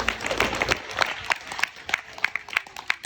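Audience clapping at a wedding celebration, a dense patter of many hands with sharper peaks scattered through it. The applause runs steadily for a few seconds at moderate loudness with no talking.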